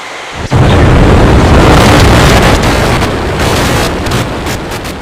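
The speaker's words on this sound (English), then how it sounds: "We have liftoff" SpaceX Starship lifting off from Boca Chica, Texas, a sudden overwhelming roar that swells in within half a second and stays loud, rumbling and crackling throughout with wind buffeting the microphone.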